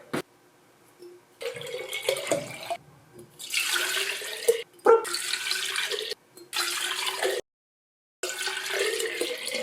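Water pours from a tap into jars holding plastic fishing lures, several close splashing bursts broken by short silent gaps as each jar is filled in turn.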